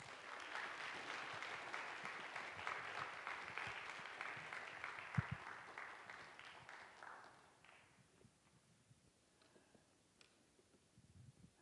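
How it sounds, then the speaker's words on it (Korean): A church youth congregation applauds to welcome a missionary to the pulpit, a warm crowd of clapping that runs strong for several seconds, then thins out and fades to a few scattered claps. "박수로 한번 환영의 인사 한번 하실까요?"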